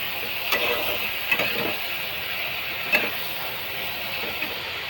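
Yellow potato bhaji sautés in a pan over low gas, giving a soft, steady sizzle broken by a few brief spatula scrapes. No one speaks.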